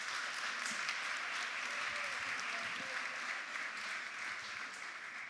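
Faint, continuous applause from an audience at a conference session carries on evenly, a soft wash of clapping heard from a distance.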